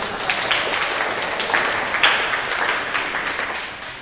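Audience applause at a JavaScript developer conference talk, a steady wash of clapping from a crowd that holds for about four seconds and then begins to thin out.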